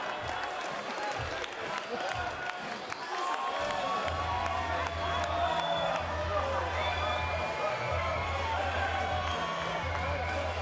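An arena crowd at a bare knuckle boxing event sings a sustained chant for fighter Ricky Nelder, a broad roaring wash of voices with a commentator talking over it.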